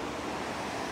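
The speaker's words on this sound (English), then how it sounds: "that sound is like from this waterfall that's down there." Waterfall below a back road, heard from up above as a faint, continuous rushing hiss that stays even from start to finish.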